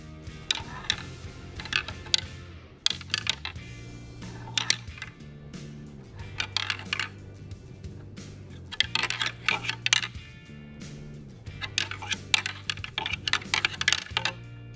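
Deer antler tips are tickled lightly together for early-season rattling: quick clusters of crisp, light clicking and clacking, close and fairly soft, repeating in bursts with brief pauses between them.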